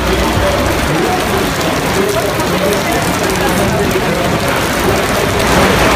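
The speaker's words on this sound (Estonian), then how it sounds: "rahet sajab" Hail falling in a dense, steady roar on a surface outdoors during the Tour de France, a continuous loud clatter lasting throughout with no distinct gaps.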